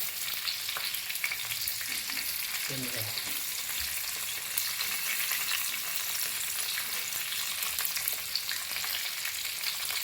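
Village crabs fry on a flat tawa griddle over low heat, giving a constant soft crackling sizzle with occasional faint scrapes and shifts as pieces are turned.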